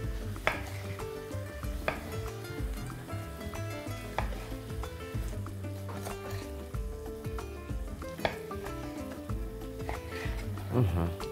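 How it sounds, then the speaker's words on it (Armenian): Half a kilogram of beef heart is cut into pieces and salted, with a scattering of sharp knife strikes and kitchen clatter heard under a voice talking throughout. "Կտրատում ենք հարմար չափերի և աղում ենք։"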